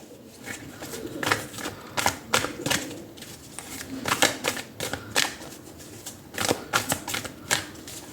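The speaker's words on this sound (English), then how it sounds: "And I'll take out 4 cards from here." Cards are pulled one by one from a Good Tarot deck and laid down, making uneven bursts of sharp snaps and flicks with short pauses between them, close and fairly loud, without speech.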